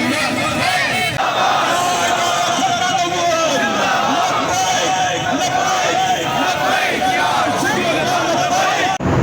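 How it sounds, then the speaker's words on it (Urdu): A protest rally crowd of hundreds in northern Lahore, chanting slogans against Sweden over the desecration of the Quran, a loud dense wall of massed shouting voices that carries on without pause throughout. "ریلی میں سویڈن کے خلاف بھرپور نعرے بازی کی گئی"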